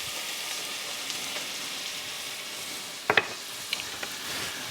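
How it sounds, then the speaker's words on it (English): Flour is stirred into a pot for prawn bisque, a soft continuous sizzle under a few faint scraping strokes and light clinks of a utensil against the pan. "And we'll stir that around"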